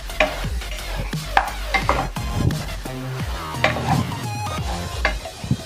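Curry leaves frying in a pan of oil for a gongura prawn curry, a close crackling sizzle broken by repeated clinks and scrapes of a stirring spoon against the pan.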